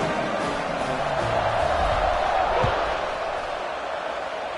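A stadium crowd in an American football video game, California against Arkansas, gives a steady distant roar of cheering and murmur under the broadcast ambience, with a brief thud partway through.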